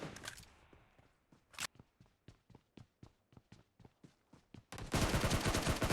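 Gunfire in the battle royale game PUBG: a rapid string of single shots crackles out at a steady rhythm, quiet and distinct, before a sudden loud burst of noise at the end.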